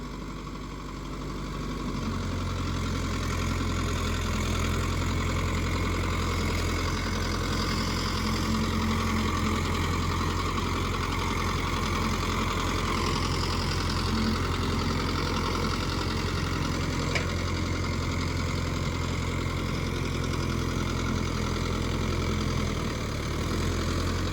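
A Mahindra Yuvo Tech+ 585 tractor pulling a nine-tine plough in a field, its diesel engine a steady heavy drone that runs continuously, close and loud with no voices.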